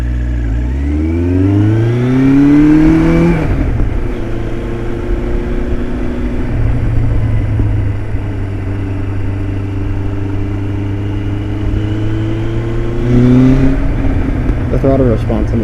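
A 1977 Kawasaki KZ1000 motorcycle revs up through the gears, its engine pitch climbing, dropping at each shift and rising again, then holding a steady cruise before another climb, loud and close.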